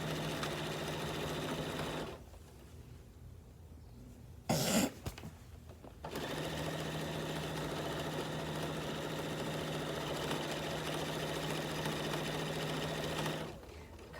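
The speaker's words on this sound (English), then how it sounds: "Just sewing down the fabric." Sewing machine stitching binding onto a quilt, a steady fast mechanical whir that runs continuously, stops briefly for a couple of seconds with a short knock, then resumes close and even.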